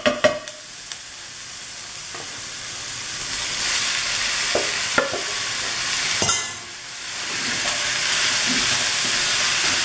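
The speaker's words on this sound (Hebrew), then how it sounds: "ונטגן את הבשר כמה דקות עד שהכל מוכן" Chicken meat and onions fry in a pan for a Chinese sweet and sour orange chicken, giving a steady, loud sizzle with a few clicks of stirring near the start and a brief surge of hiss midway.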